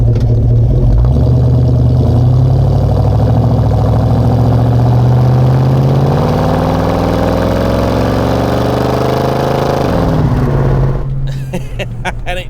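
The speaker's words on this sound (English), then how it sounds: "this does at least sound like a proper Mustang" A Ford Mustang Mach 1 V8 runs loud and close, a steady throbbing exhaust note with gentle rises in pitch before it settles and fades near the end, no talking over it.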